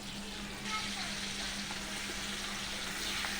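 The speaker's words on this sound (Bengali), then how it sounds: "তারপরে আমি দিয়ে দেব যে বেটে রেখেছিলাম মশলাটা, সেই মশলাটা" Ground ginger, onion, garlic and chilli paste fries in a pan, giving a steady, even sizzle that holds close and constant throughout.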